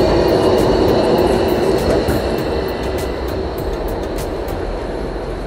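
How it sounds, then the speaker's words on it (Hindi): A tram passes along a Berlin street, giving a steady loud rolling rumble and rail whine with faint clicks, continuous and close for about five seconds with no talking. "ये जी ट्राम जो बहुत यूज़ करते हैं यहाँ लोग।"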